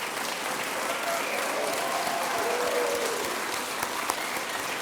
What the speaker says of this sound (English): let's hear a round of applause for our 2025 Alumni Difference Makers